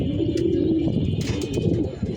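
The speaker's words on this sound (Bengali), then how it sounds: "জোনাকের কিছু কবুতর উঠতেছে ছড়ায় ছিটে" A flock of young pigeons taking off and scattering over rooftops, heard as continuous low cooing close by, with a constant hum of outdoor background noise.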